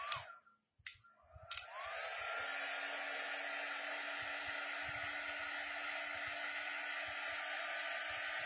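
A hair dryer blows steadily on a piece of craft work after a few short stop-start bursts, then settles into a loud, even whooshing hiss that runs to the end.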